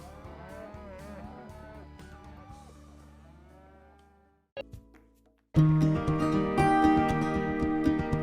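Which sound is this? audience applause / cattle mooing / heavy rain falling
cattle mooing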